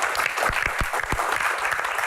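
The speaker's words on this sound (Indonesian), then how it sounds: "Tepuk tangan dong buat Pak Bolot." Studio audience applauding Pak Bolot during a Q&A comedy talk show, a steady two-second burst of many hands clapping with a few sharper, louder claps standing out near the front.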